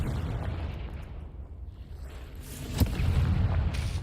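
A Confringo fire spell blasting in Hogwarts Legacy, a loud burst near the middle over a constant low rumble of game ambience, with no talk.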